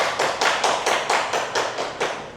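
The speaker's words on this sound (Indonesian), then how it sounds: "Tepuk tangan." Steady rhythmic clapping, about nine even claps, rises near and clear at an election meeting of a television journalists' association in Central Papua, greeting the announced vote count with no talk over it.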